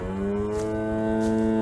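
Cattle in the Greyhill Incident video game give a long, steady, tonal moo that holds at an even, fairly loud level for under two seconds, with no talking.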